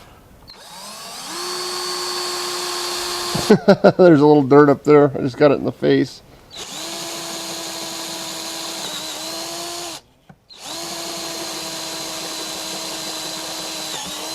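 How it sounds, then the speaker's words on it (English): A power drill whines steadily in bursts while drilling metal, broken by short pauses, with a person speaking briefly in between. "We're just going to do some drilling here."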